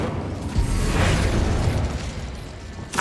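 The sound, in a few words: Incendio fire spell in Hogwarts Legacy video game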